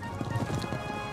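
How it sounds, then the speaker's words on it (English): Horses' hooves clip-clop in an even, moderately close rhythm, with riders heading back to Philadelphia on horses from a stable; the steady low thuds are mixed with faint background hum. "We rode back to Philadelphia on horses from the stable of Abigail Adams."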